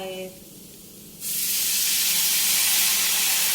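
Black pepper sauce stir-frying in a pan, a loud, broad sizzling hiss that starts suddenly after a brief quiet moment and stays steady and close to the end.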